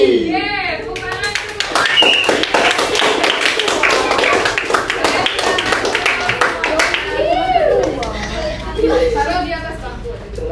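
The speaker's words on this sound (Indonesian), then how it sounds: "tepuk tangan." A fourth-grade classroom group breaks into brisk applause that runs for several seconds, with children's voices and chatter mixed in before it fades into talk.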